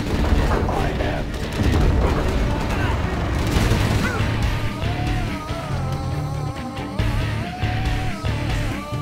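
Rapid, continuous heavy Gatling cannon fire from Command & Conquer Generals: Zero Hour, a dense rattling barrage with booms, loud and sustained throughout, with a voice briefly audible in the mix.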